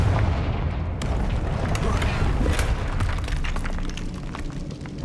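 Confringo fire spell blasts in Hogwarts Legacy, a loud booming explosion with crackling bursts that rumble and fade over several seconds, with a voice shouting over the start.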